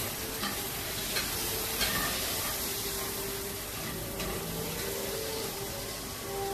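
Steak searing in a hot pan: a dense, continuous loud sizzle and crackle that holds steady throughout, close by, with faint occasional clinks beneath.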